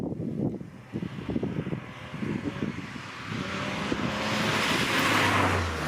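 A Porsche 996 sports car exhaust rumbles and burbles through gear changes, then swells into a rising engine roar as it accelerates away.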